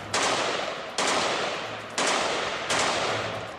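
Belgian-made F2000 fully automatic assault rifle firing in four long sustained bursts, each a dense rapid stream of shots starting abruptly, loud and close with no voices.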